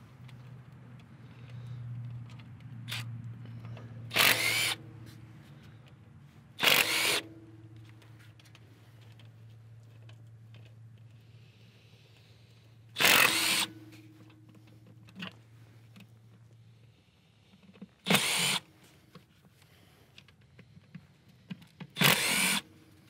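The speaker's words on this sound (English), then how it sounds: "Now we can remove the 10 millimeter bolts. 10 millimeter headed bolts holding the rocker cover in place." Power tool spinning out the six 10 mm headed bolts on the rocker cover of a Subaru Sambar KS4 EN07 engine, five or six short loud bursts spaced a few seconds apart over a low steady hum.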